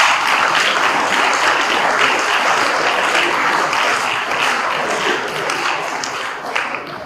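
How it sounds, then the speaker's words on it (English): A quiz competition audience gives contestants sustained applause, a dense, even wash of many hands clapping that holds steady for several seconds before thinning slightly at the end. "Please give them a round of applause."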